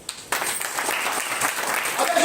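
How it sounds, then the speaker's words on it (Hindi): Audience at an LIC insurance training seminar bursts into applause after a brief quiet start, a dense, even clapping from a roomful of people that holds steady to the end. "अपने लिए ताली बजाइए।"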